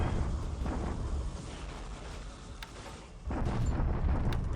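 Bombardment explosions in a Pacific-theatre strategy war game, heard as a continuous rumbling roar of blasts with a fresh surge of booming near the end.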